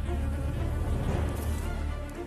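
Japanese honeybees give a dense, continuous buzz up close, a steady droning hum of many insects with no voices.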